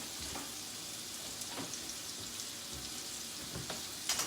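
Food sautés in a hot pan with a steady, even sizzle throughout, with a few soft stirring scrapes and a small clink near the end, no talking.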